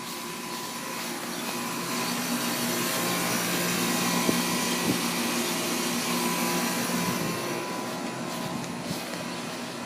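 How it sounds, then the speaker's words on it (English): Several central air conditioner units run outdoors in a residential neighborhood, producing a steady, broad whooshing drone with a faint tonal hum that holds evenly throughout. "You can hear air conditioner symphony going over here."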